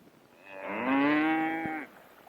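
A single long cow moo, clear and fairly close, rising and holding for over a second before fading, with quiet background around it.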